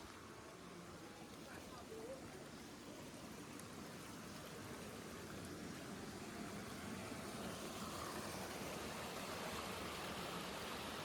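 Mountain streams and waterfalls on a circular trail near Lake Sanabria, a steady broadband rush of running water filling the whole stretch at an even level with no pauses.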